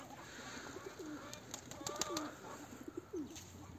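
Soft coos from a male domestic pigeon repeat a few times at close range, with light rustling and faint flutters in a quiet background.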